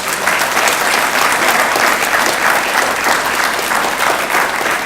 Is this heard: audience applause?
yes